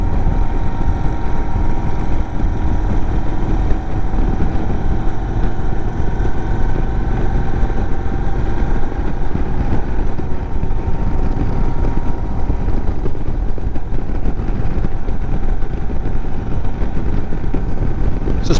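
An Indian Sport Chief cruiser motorcycle rumbles steadily through a ride, its engine drone continuous and loud with wind noise mixed in and no clear shifts or talking.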